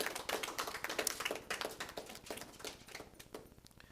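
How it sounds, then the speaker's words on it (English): Audience applause at a press conference, a dense run of many hands clapping that stays steady for a few seconds and then thins out slightly toward the end. "Let's give them a round of applause."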